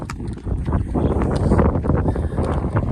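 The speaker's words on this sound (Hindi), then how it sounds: "तेज हवाएं चल रही है यहाँ पे" Strong wind gusts across a mountain trail on the Amarnath Yatra route, a loud, continuous rushing roar buffeting the microphone for the whole stretch with no pauses.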